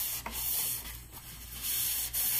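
Soft cloth rubbing wax over a furniture table with moulded relief details, giving faint, intermittent swishing strokes close by with no talking.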